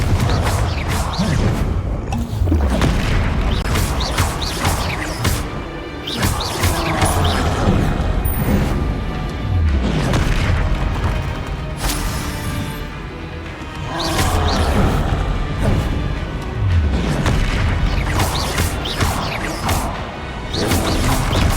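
Fiery Confringo blasting curse explosions during Hogwarts Legacy combat: repeated loud booming blasts, crashes and swishes over a continuous game soundtrack, recurring across the whole stretch.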